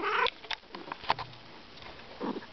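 A house cat indoors gives a few short, nasal meows and chirps separated by quiet gaps, close by and fairly soft.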